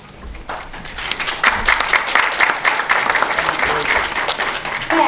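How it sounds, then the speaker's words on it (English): Audience at a village board presidential forum applauding after a candidate's opening statement, a dense burst of clapping that swells quickly and holds steady to the end. "May I ask you if you will hold applause until the end of the evening?"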